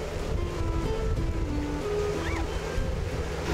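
Steady rushing water and churning wake waves against a small moving boat in the Everglades, with wind noise on the microphone and a faint engine hum underneath, continuous throughout.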